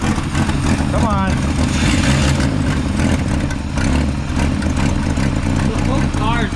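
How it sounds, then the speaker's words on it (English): A 1961 Ford Falcon Delivery idles steadily with the choke left on and a small downpipe exhaust leak, the body rattling throughout, while a person talks over the engine. "The whole car's rattling."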